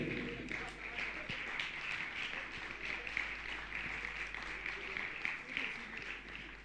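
A crowd at a religious discourse gathering applauds, a steady wash of many hands clapping together, fairly faint and distant over a low electrical hum, continuing without a break.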